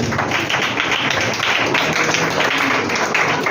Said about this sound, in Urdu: زوردار تالی دیں گے۔